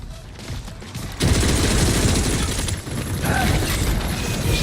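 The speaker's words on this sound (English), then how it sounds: "Now it's time to shoot some motherfuckers" Gunfire in Gears of War bursts in after a quieter start, a dense, loud fusillade of rapid shots that continues steadily with brief dips in intensity.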